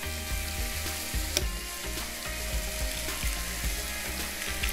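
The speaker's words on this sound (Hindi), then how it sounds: "जब तक ये चिकन यहाँ कुक हो रही है" Chicken wings fry in a pan with a continuous close sizzle and bubbling, overlaid by a low rhythmic mechanical hum and an occasional sharp tick.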